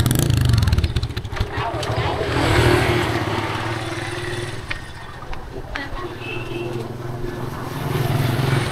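An old motorbike engine in the Mekong Delta, Vietnam, runs steadily close by, idling with a rough mechanical clatter and rising briefly at times, while voices talk over it.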